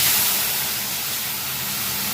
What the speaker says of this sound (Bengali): মশলাটা আমি দিয়ে দিলাম তেলের মধ্যে